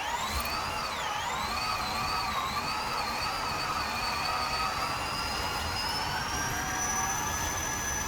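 BMW car engine in the racing game Forza Horizon 5, a loud, harsh, droning engine tone held continuously with a slight pitch dip then a steady rising whine, nothing else heard.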